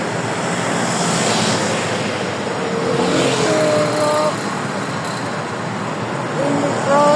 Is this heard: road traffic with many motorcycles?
yes